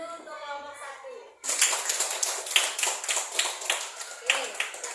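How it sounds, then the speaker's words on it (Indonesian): A classroom group gives applause for group 1, a burst of many hands clapping that starts abruptly after a voice speaks and continues steadily, close and lively. "beri aplaus dulu untuk kelompok 1"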